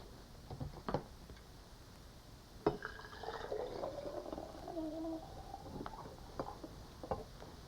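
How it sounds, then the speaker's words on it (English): Boiling water is poured into a glass pint jar over whole cloves. A quiet, rising pour runs for a couple of seconds with a few soft clinks and taps before and after. "and cover this with boiling water."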